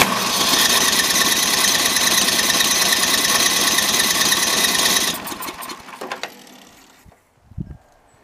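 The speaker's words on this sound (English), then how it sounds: "I'll just show you the electric start running on it." A 30-inch Yard Works snow blower engine, started electrically, runs at a steady idle with a mechanical rattle for about five seconds, then cuts out and winds down with a few clunks before falling quiet.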